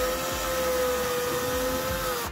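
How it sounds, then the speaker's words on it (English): A power drill fitted with a Phillips bit drives screws for a motion sensor mount into wall anchors, a steady, loud, close motor whine held for about two seconds before cutting off. "using a Phillips head drill bit or Phillips head screwdriver, screw the mount into those anchors"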